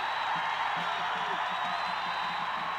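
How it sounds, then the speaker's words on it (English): A sellout crowd at an Iowa State basketball game against Indiana, a steady roar of cheering and whooping that fills the arena and runs throughout, with a commentator's voice over it. "Boy, you can hear that crowd."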